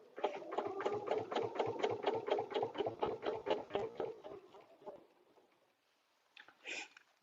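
Sewing machine stitching a paper-pieced butterfly dresser scarf, a close rapid run of rhythmic needle strokes for about five seconds, then stopping, with a short handling noise afterwards.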